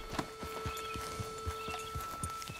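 Horse hooves clip-clop at a steady trot in the Red Dead Redemption 2 video game, about a dozen evenly spaced thuds over a faint constant electronic hum, fairly close and moderately loud.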